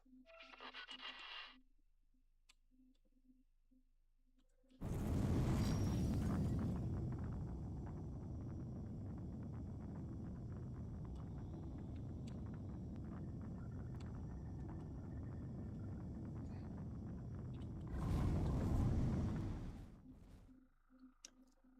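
A spaceship engine in the video game X4: Foundation spools up into travel mode. A soft clicking lead-in gives way to a sudden loud, sustained roaring rumble that holds for many seconds, swells again near the end, then cuts out.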